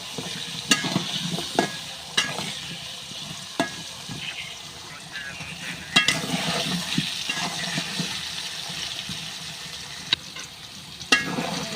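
Sliced potatoes fry in a pan with a close, bubbly sizzle broken by sharp clattering knocks, likely from stirring, spaced through the stretch; no speech.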